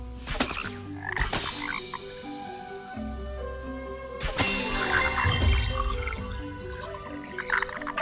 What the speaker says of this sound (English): Now pay attention to the ribbit order. Middle, right, left.